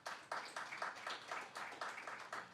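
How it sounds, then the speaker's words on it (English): Audience applause at the unveiling ceremony for a Micron cleanroom, with scattered claps swelling and pulsing in uneven bursts, fairly faint and distant-sounding, with no talk over it. "Let's give them a round of applause."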